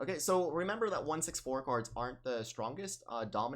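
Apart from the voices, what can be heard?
No distinct noise like a dog, phone or traffic.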